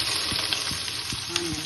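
Cumin seeds sizzling in hot cooking oil give a steady, close crackling hiss with faint pops, heard alone with no talking.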